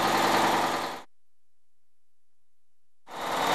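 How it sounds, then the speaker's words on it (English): Cummins diesel engine with an HPI-TP fuel system running at rated speed with no load, a loud steady mechanical roar heard close up in two bursts separated by about two seconds of silence. "Start the engine and run it at rated speed with no load."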